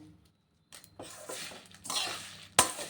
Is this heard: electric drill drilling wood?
no